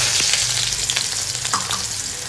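Onions frying in a pan give off a loud, continuous hiss of sizzling oil, with faint stirring sounds through it and no voices.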